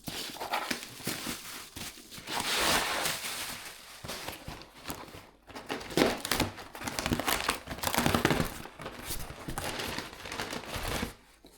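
Packing tape is peeled and ripped off a double-boxed parcel in repeated crackling, tearing bursts mixed with cardboard crinkling, close and fairly loud, with short pauses between pulls.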